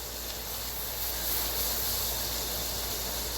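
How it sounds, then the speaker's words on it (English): A kitchen exhaust fan runs continuously, giving a loud, uniform rushing hiss with a faint low hum underneath and no speech. "I'm going to turn on the fan for a bit"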